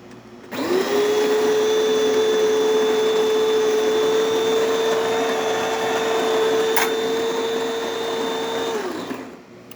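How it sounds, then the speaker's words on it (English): A coffee grinder set to its finest, smallest dose runs as one steady, loud electric whine from start to finish, with a high motor tone and a brief click partway through. "We were grinding the minimum that the machine can grind."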